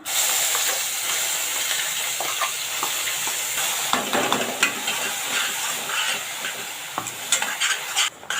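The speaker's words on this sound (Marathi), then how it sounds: "चांगला परतायचा आहे तेलावर चांगला कांदा फ्राय झाला पाहिजे" Ground onion paste fries in hot oil with a continuous sizzle, broken by scraping stirs and occasional louder crackles.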